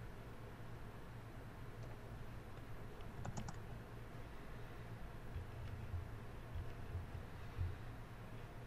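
Quiet computer keyboard typing, scattered soft key clicks with a short burst partway through, over a steady low hum and hiss with no voices.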